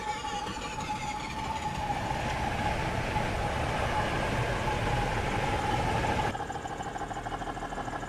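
A passing train in the Train Sim 2019 video game, on the Northallerton to York route, rumbles past close by, a continuous loud roar with whining engine tones that cuts off abruptly near the end, leaving lighter rolling noise.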